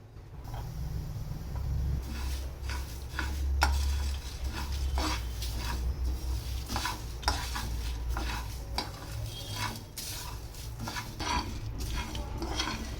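Fenugreek seeds roast on low gas as a utensil stirs them continuously, giving repeated scraping and rattling strokes over a low sizzling hiss, close and steady with no talk.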